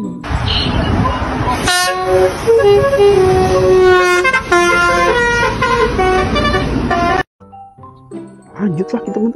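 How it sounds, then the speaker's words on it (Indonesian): Arema FC team bus on an Indonesian road, passing with a loud multi-tone horn that plays a long musical run before cutting off abruptly, followed by quieter traffic and brief voices. "ada bus Arema FC teman-teman"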